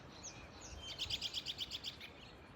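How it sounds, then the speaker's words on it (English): A red-winged blackbird sings outdoors near fresh water in early spring, a faint, distant trilling burst of rapid repeated notes after a couple of softer chirps, with no talking. "I just heard a red-winged blackbird."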